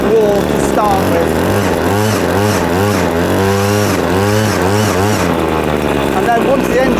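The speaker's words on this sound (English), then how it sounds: "once the engine's warming up, it will now tick over perfectly okay" A Cobra LRH26C long reach hedge trimmer's small petrol engine runs close and loud, revving up and down in repeated surges before settling to a steady idle.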